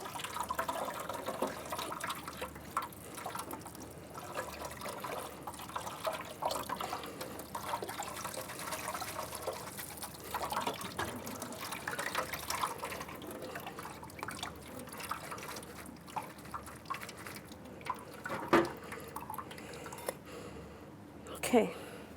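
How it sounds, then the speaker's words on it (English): Cold tap water runs over cooked spaghetti in a kitchen, a steady splashing rush that continues throughout with a couple of louder clunks near the end, heard close under intermittent talk. "some cold water to rinse it off"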